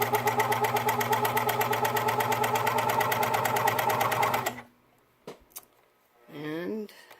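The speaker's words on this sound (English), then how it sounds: "I think I'll start by just sewing it a little bit to see if it's lined up" A sewing machine stitches elastic in a fast, steady mechanical run for about four and a half seconds, then stops, followed by small clicks and a short spoken phrase.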